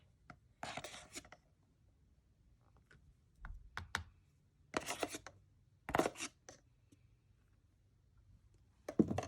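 Cornstarch being mixed into homemade cloud dough, short bursts of dry scraping and crunching from a spoon, close and quiet, separated by silent pauses, with no talk.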